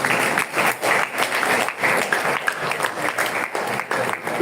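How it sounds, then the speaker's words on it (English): An audience at a live event gives loud, close applause that surges and dips in a loose pulsing rhythm for a few seconds. "Please let's clap for him."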